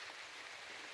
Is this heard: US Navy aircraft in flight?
no